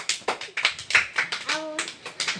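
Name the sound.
children clapping for an answered question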